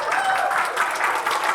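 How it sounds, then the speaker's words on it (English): Short burst of audience applause at a BronyCon convention panel, dense and steady throughout. "Give Trixie a round of applause."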